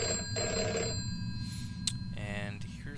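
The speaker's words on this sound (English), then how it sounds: "Let's go answer that phone." A telephone rings in the horror video game Deep Sleep, with repeated electronic bell bursts standing out over a low ambient drone and brief clicks.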